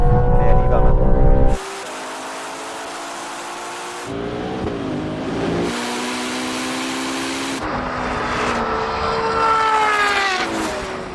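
Ferrari sports cars, including a Purosangue, 812, SF90 and 296 GTB, accelerate hard in a drag race. Loud, rising engine tones climb and drop through several gear shifts in a continuous roar, with a voice talking over it.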